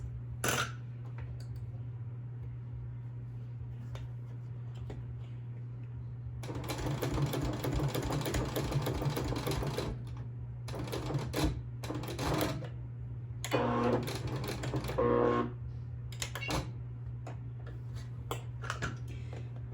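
A domestic sewing machine stitches fabric drink coasters in a beginner project, its motor whirring in several bursts of rapid, steady stitching separated by short pauses, with a constant low hum throughout.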